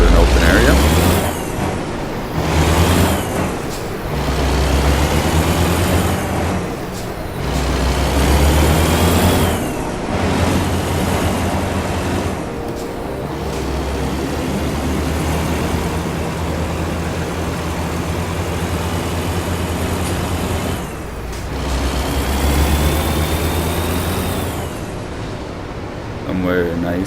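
A big rig in American Truck Simulator rumbles steadily with its engine revving up and easing off in waves, including air-brake-like hisses, while someone talks over it throughout.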